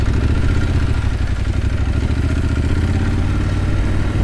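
A heavy Triumph motorcycle rides off-road near a rural airstrip and sugarcane field, its engine a loud, steady mid-pitched drone with rattling clatter running throughout, close and unbroken.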